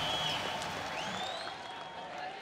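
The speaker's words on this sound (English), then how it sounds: "And just listen to this crowd." A large arena crowd at a ONE mixed martial arts event cheers and applauds a fight decision, a dense sustained roar heard from a distance, with a few whistles rising through it.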